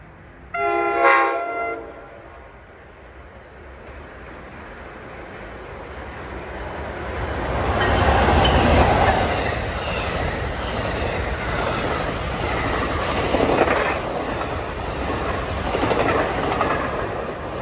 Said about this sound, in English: here comes our last express train at 6:55. That's 6655, New York to Dover